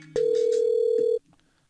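A phone call placed from a computer gives one steady electronic ringing tone that lasts about a second and then cuts off into near silence.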